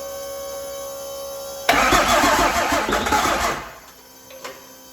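A P-pumped 6.7L Cummins diesel cranks briefly and then fires, roaring loudly up close for about two seconds before dropping back to a quieter idle.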